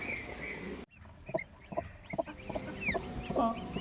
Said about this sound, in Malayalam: കോഴിക്കുഞ്ഞിൻ്റെ കരച്ചിലാട്ടോ അത് ഈ മുട്ടയ്ക്കുള്ളിൽ നിന്ന് കേൾക്കുന്ന കരച്ചിലാണ്